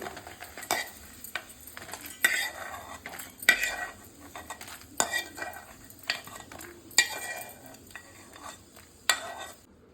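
A metal spoon stirring and scraping ingredients frying in a pan for tomato chutney, with irregular close clinks and scrapes against the pan over a soft, faint sizzle.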